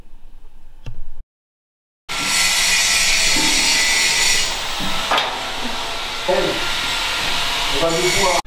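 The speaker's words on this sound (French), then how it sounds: "L'assemblage est effectué par l'apport de métal fourni par l'âme de la baguette à souder." Arc welding with a stick welding rod in an agricultural workshop: a loud, steady crackling hiss runs for most of the clip after a brief silence, with a few sharper pops and short tonal blips near the end.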